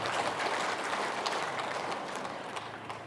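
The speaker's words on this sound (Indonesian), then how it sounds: "Tepuk tangan." Crowd applause at a public address, a dense steady patter of many hands clapping that fades slightly toward the end, with no talk over it.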